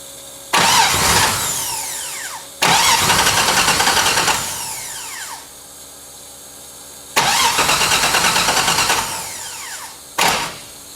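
A car engine on a drift build is cranked from the front starter solenoid, giving three long whirring cranking bursts and a short fourth one, loud and close, with pulsing starter rhythm and no speech.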